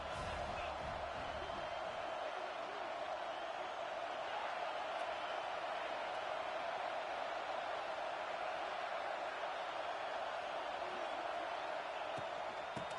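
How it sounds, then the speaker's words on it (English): Stadium crowd in a college football video game, Texas at Tennessee, a dense steady roar of many voices at a distance, sustained without pause under a commentator talking. "This crowd bringing the energy and noise early."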